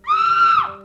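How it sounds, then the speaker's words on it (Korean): Children scream in a single sharp, loud, sustained shriek lasting under a second, then cutting off abruptly. "아이들의 비명소리가 울려 퍼지기 시작했다."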